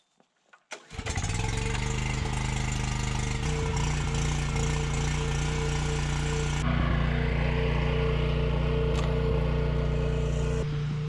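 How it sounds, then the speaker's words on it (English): A portable generator at an off-grid cabin coughs to life after a couple of brief pulls, then settles into a steady, loud, droning run that continues throughout, shifting slightly in pitch midway. "So I'm gonna run the generator."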